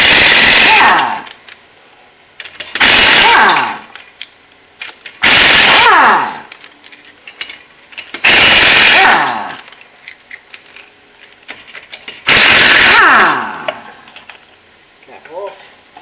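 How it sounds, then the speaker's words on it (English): Impact wrench rattles off 19mm wheel nuts on a Holden Commodore, five loud, close bursts of about a second each separated by brief pauses, with light clinks and handling noise in between. "I've got a rattle gun, makes it a bit easier"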